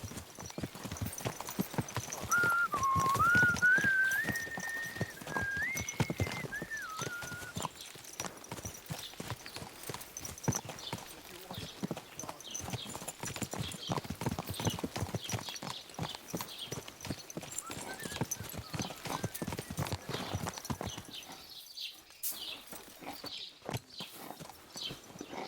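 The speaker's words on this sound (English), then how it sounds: "What a cheap old nag." Horse hooves clip-clopping steadily at a walking pace in Kingdom Come Deliverance 2, close and rhythmic throughout, with a horse's brief whinny near the start and a quieter stretch toward the end.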